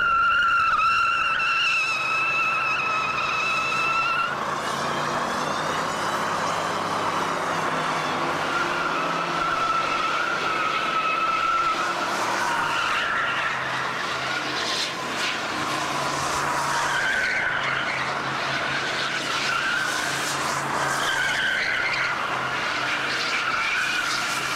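Bentley being driven hard to wreck it, tires skidding and squealing in long screeching sweeps over a roaring engine, loud and close throughout with no talk.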